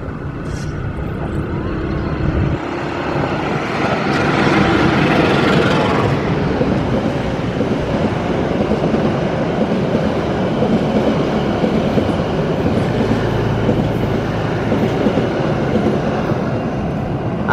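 The Argo Wilis passenger train rumbles past close by, a loud sustained roar with rattling wheels and clacking rails that swells and then holds steady.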